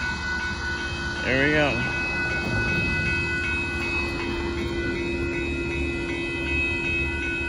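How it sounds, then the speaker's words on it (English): Southbound Amtrak Texas Eagle passenger train 21 rolls past the Dittmar Road crossing in Austin, Texas, with a short, loud horn blast early on over a steady rumble of wheels and cars. Someone speaks briefly. "Here comes Amtrak Texas Eagle train 21, 57 and 50."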